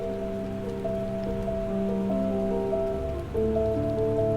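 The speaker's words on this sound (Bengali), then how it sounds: "যেহেতু এই পিঠাগুলো ডুবা তেলে ভাজতে হয়, আমি সেই পরিমাণে সয়াবিন তেল দিয়েছি এবং তেলটি ভালো মতো গরম করে তারপরে এই পিঠাগুলো দিয়েছি।" Pakon pitha deep-frying in plenty of hot soybean oil over medium heat gives a steady, close crackling sizzle with no pauses, while sustained musical tones play over it.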